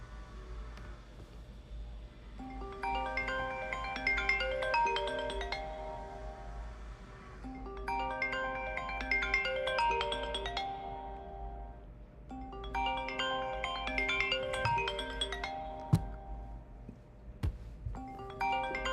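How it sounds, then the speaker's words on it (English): An outgoing phone call rings back in repeated melodic tone bursts of a few seconds each, separated by short pauses, heard three times and starting a fourth, moderately loud with nobody talking. "I'm calling them. Let me see if they're gonna pick up the phone."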